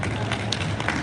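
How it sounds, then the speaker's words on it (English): A conference audience applauds in a brief, dense patter of many hands clapping at once, steady and close for about a second. "Give one more round of applause."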